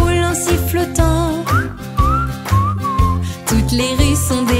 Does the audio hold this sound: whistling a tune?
yes